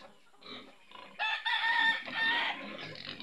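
Fighting roosters kept on a Philippine backyard farm crow in a long, loud call near the middle, surrounded by scattered clucks from other chickens, with no voices present.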